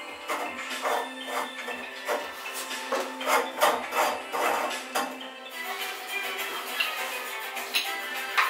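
An old Price Pfister Avanti shower cartridge being unscrewed from the valve, a repeated rough rubbing, rasping turn with short rhythmic bursts, close and fairly loud, no voices.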